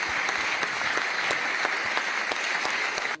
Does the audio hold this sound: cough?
no